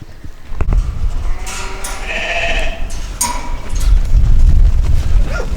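Sheep and lambs bleat loudly and close by on a farm, several overlapping calls rising and falling over rustling and background movement, with no speech.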